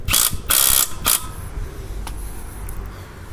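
A Bosch GDX18V-EC hybrid impact driver hammers in a few loud, close rattling bursts during a speed test, then falls to a quieter mechanical whir with faint clicks.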